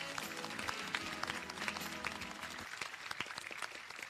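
Audience at a Seychelles business academy graduation ceremony gives the graduates a round of applause, steady dense clapping from a large crowd, fairly faint and distant, thinning slightly toward the end.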